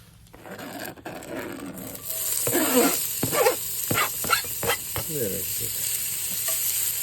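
Garlic and onions fry and sizzle in a pan at a hunting camp, with a steady close hiss and scraping stirring strokes partway through, no voices.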